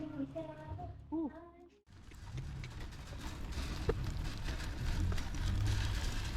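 Rain comes on suddenly after a moment of quieter sounds and a voice, then falls steadily as a dense, close patter that builds toward the end.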